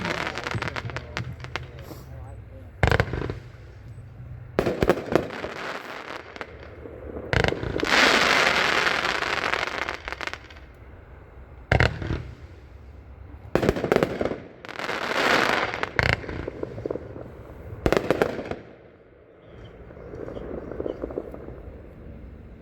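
The Goody Goody Gumballs firework cake, a 25-shot item new for 2026, fires a long sequence of sharp bangs and crackling bursts, some loud and close, with hissing sprays between shots and background noise throughout.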